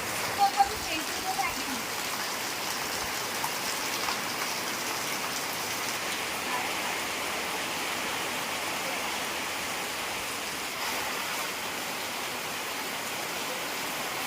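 Heavy rain pours down in a constant, dense hiss that stays at the same level throughout, with a few faint knocks at the start.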